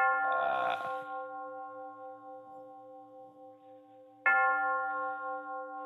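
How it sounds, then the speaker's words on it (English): Town church bell rung by hand, two strong rich tolls about four seconds apart, each with a long ringing decay, close and clear with no talking. "You want to ring the bell?"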